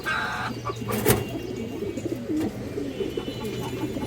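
Large pigeon cooing nearby in a low, soft repeated throaty phrase, with a sharp brief clatter early on and a quiet room around it.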